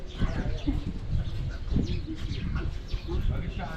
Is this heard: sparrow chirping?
yes